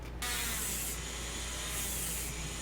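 Abrasive grinding into foam while shaping a prop M240 flamethrower, a steady close rasping hiss that runs continuously, slightly swelling and easing without pauses.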